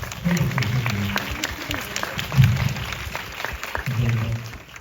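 An audience at a film screening with a guest visit applauds the actors, scattered sharp claps rising and falling in uneven bursts while voices murmur and talk underneath.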